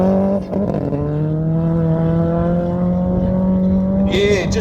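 A Subaru Legacy RS Turbo rally car, a Colin McRae replica, corners hard on a gravel stage at Ben Nevis Station. Its loud, sustained engine note holds steady, then swells with a brief rev near the end.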